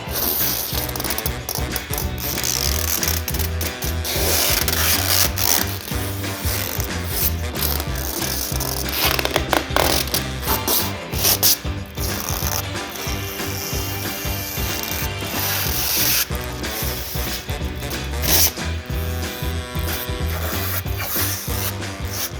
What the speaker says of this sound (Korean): 비닐을 한번 뜯어보도록 하겠습니다.